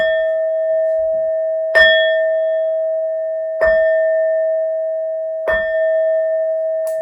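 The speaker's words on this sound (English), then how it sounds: "These next 4 bell sounds are to align us and to bless this reading." A steady ringing tone is struck again three times at even intervals, each strike bright and clear, sustaining into a long shimmering hum with no talk.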